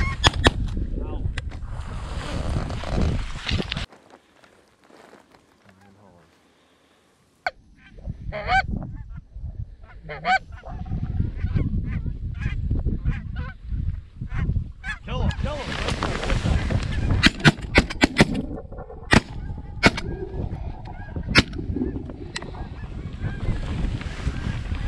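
Several sharp, loud shotgun blasts ring out in bursts during a waterfowl hunt in Saskatchewan, mixed with geese honking and people talking between the shots.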